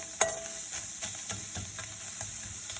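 Okra dry-roasts without oil in a stainless steel pan, a constant light sizzle broken by several scraping stirs and soft knocks of a utensil at a steady pace.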